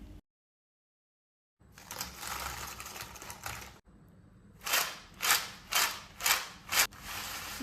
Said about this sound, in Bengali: চিপসগুলো কত বেশি ক্রিস্পি হয়েছে আওয়াজটা শুনে নিশ্চয়ই বুঝতে পারছেন